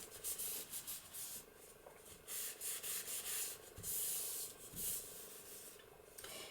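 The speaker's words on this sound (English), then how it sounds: "So let's burnish that down a little." A paper page wrap for a junk journal is burnished down by hand, giving soft, close rubbing and scraping strokes that repeat in an irregular rhythm at low volume.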